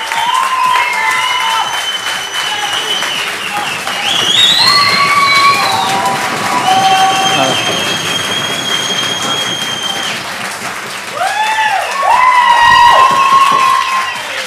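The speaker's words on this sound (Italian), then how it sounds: "battere le mani." A school audience claps steadily and cheers loudly throughout, with whoops and shouted voices rising over continuous applause in an indoor hall.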